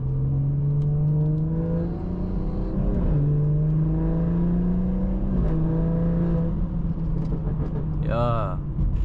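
A BMW 440i drives and revs, its engine holding a steady low drone that rises in pitch several times, with a sharp rev climb near the end; a voice speaks over the engine.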